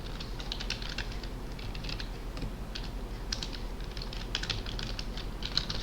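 Code being typed on a computer keyboard, quick irregular clusters of close key clicks and clacks with brief pauses between bursts, no voices.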